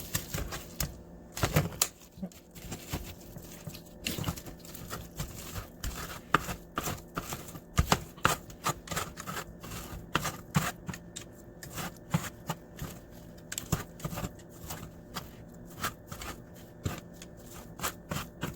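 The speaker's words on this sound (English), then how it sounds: "I'm going to shred it so I can have tacos" Cooked pork tenderloin being shredded for tacos with a tool, giving a close, busy stream of quick scraping and tearing clicks in an irregular rhythm without talk.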